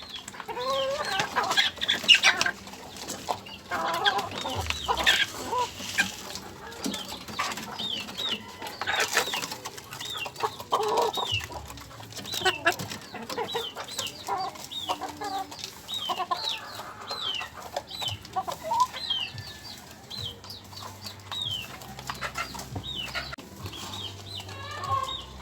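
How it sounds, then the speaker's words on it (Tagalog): Hens cluck continuously on a small chicken farm, with overlapping calls from several birds at close to medium range and a few deeper fowl sounds now and then, no talking. "Ito may mga inahin."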